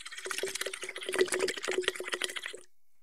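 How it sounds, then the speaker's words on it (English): Bubbles blown through a straw into a glass of water, a rapid bubbling gurgle lasting a couple of seconds before stopping, close and fairly quiet. "Blow some bubbles into that water."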